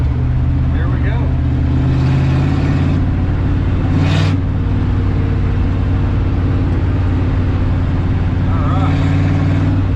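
A 1970 Ford F250 pickup accelerates hard in first gear, its engine droning loud and steady throughout with a brief whoosh midway, while a person speaks briefly over it.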